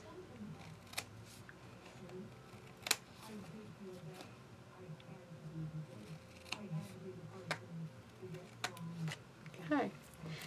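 A few sharp, crisp snips ring out at irregular intervals over quiet background noise, close by and fairly soft.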